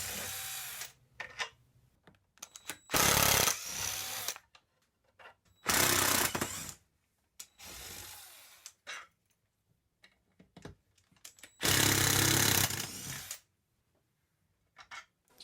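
An impact driver with a socket rattles nuts off wooden furniture hardware in three loud, hammering bursts of a second or so each, separated by quieter handling clatter and pauses.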